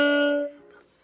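A single saxophone note played with normal tongued articulation, sounding loud and clear, then cut short after about half a second and dying away into a quiet room.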